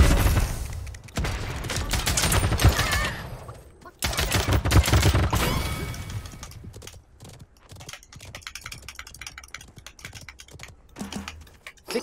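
Gunfire in the battle-royale game Realm Royale comes in dense, loud bursts that merge with other game noise, then gives way to quicker, sharper clatters and taps, with no talking over it.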